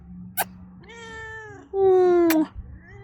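A cat meows twice up close, a short meow followed by a longer, louder drawn-out one, with faint background noise.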